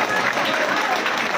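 Crowd at a gathering with an MLA applauding on request, a dense, steady wash of clapping throughout, fairly loud and even with no pauses.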